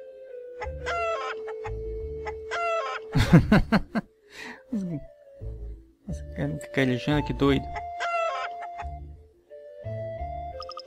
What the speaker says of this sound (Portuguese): Ah! Cheio das galinhas,